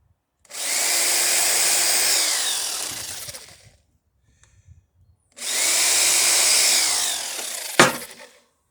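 A power drill drives screws into the wooden centerboard box of a Chamberlain Alpha Dory under construction, in two steady whirring runs of about three seconds each, the motor pitch dipping as each screw tightens, with a sharp knock at the end.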